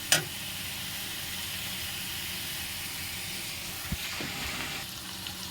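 Ginger-garlic paste sizzling in hot oil with onions and meat, a steady soft hiss and crackle running throughout at moderate level, with a brief sharper spit near the start.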